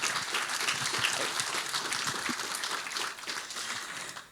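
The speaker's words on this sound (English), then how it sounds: "A big round of applause, please." An audience at a sports festival claps continuously in a dense, even burst of applause that tapers off slightly toward the end.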